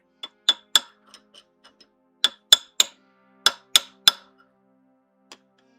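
A hammer taps on a part of a 1982 Corvette under restoration, giving a dozen sharp metallic clinks in loose clusters of two and three, with small softer ticks in between and long quiet gaps.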